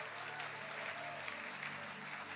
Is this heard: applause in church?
yes